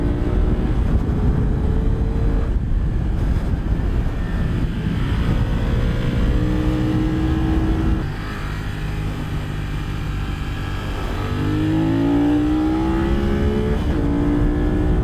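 A motorcycle on Bridgestone Battlax S23 tires rides hard and leans over, its engine rising and falling in pitch as it accelerates and shifts, loud and steady under rushing wind.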